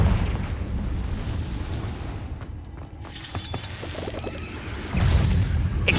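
A Confringo blasting spell bursts in Hogwarts Legacy, heavy booming blasts with crashing debris over a rumbling game soundscape, a fresh loud impact surging near the end, no talking.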